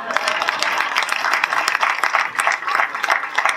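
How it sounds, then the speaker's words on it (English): An audience applauds at a real estate sales seminar, with dense, steady clapping from many hands that holds loud and even for a few seconds. "Give him a round of applause."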